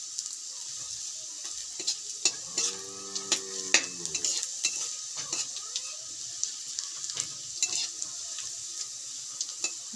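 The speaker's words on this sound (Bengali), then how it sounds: "এগুলো একটু লাল লাল করে ভেজে নিই" Garlic and green chillies fry with a pinch of nigella seeds in a pan, a soft continuous sizzle punctuated by frequent sharp clicks and taps of a utensil against the pan.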